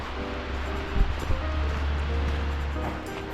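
Waterfall near Skjolden, Norway, heard from a forest path beside a lake: a steady broadband rush of falling water, continuous and fairly loud, with a couple of brief knocks near the start.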